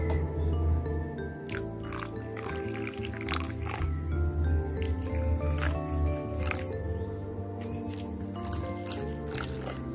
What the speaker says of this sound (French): c'est avec ça que je vais arroser mes haricots et mes pois mochetou